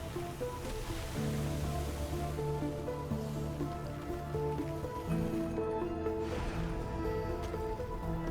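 Ocean waves rolling and surging in the video game Sword of the Sea, a steady wash of surf blended with a sustained tonal musical score throughout, continuous and fairly loud with no voices.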